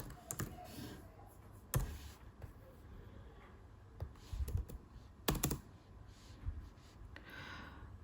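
Typing on a computer keyboard while filling in a Czech tax return form: soft, close key clicks in irregular bursts with brief pauses, fairly quiet throughout.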